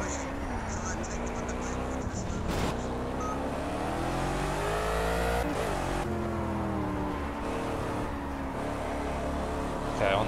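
Gumpert Apollo S supercar engine revving hard around the Nürburgring in the Project CARS racing game, a loud steady drone rising and falling through gear changes, with someone talking over it throughout.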